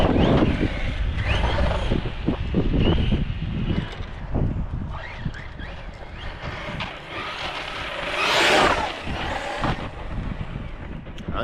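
A Team Corally Punisher XP RC truck drives and turns outdoors, its motor whining and rising in surges, with wind buffeting the microphone.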